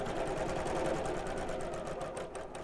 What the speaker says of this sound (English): So I'm actually stitching, if I show you close up here, along the side of the dart